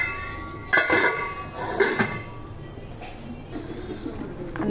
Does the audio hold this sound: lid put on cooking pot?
yes